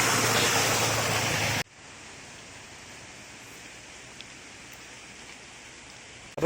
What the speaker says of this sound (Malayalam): ചെറിയ മഴയുണ്ട്.